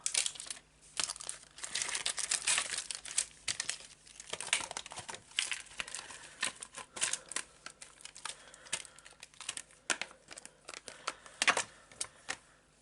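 Paper crinkles and rustles close by during card making, in irregular crackling bursts and sharp handling noises at a quiet indoor table with no talking.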